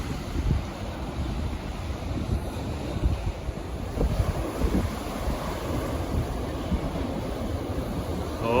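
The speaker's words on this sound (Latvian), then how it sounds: "Fantastiski viļņi." Ocean waves breaking and rolling in continuously at Rabat, Morocco, with surfers out on the water and gusts of wind buffeting the microphone.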